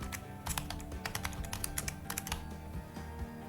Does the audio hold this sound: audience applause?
no